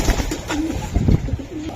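A racing pigeon gives a close, repeated throaty cooing in several low rolling phrases, alone with no talk.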